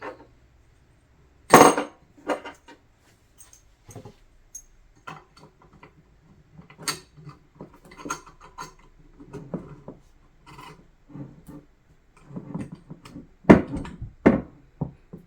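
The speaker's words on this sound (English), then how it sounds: "So I'm going to take the piston on the right, which is the Beretta 1301 piston, and I'll put it in the A300." Metal parts of a Beretta 1301 shotgun piston and an A300 Ultima Patrol shotgun clink, scrape and tap in a quiet room, close and sporadic, with sharper knocks near the start and end.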